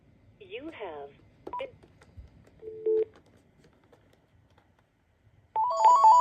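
A Panasonic KX-TG1062 cordless phone sounds a few electronic tones and short ring bursts, sparse at first and then a steady loud ring at the end, with quiet background noise between.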